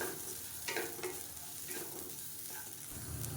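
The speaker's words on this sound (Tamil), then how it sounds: "இதையும் சேர்த்து லேசாக ஒரு பரட்டு பரட்டி விட்டுட்டு கேஸ் அமர்த்திடலாம்" Chicken mixture with roasted gram being stirred in a hot pan for Chicken Kola Urundai, with scraping strokes of the spoon over a soft, steady sizzle, close and alone.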